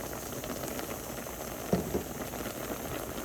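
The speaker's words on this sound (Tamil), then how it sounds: "இப்போ சிக்கனும் நல்ல வடிவாக அவிய விட்டுருக்குறேன்" A low, steady bubbling of a pot of chicken boiling with turmeric, fairly quiet, with a couple of small pops standing out near the middle.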